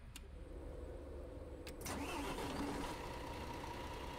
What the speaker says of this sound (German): Und dann den Motor wieder starten.